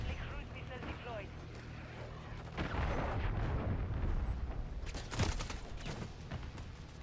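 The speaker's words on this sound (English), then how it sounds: "Friendly cruise missile deployed." Cruise missile strike in a first-person shooter game sets off a rolling barrage of heavy explosions and gunfire-like blasts, dense and continuous with a louder burst near the end, with a voice talking underneath.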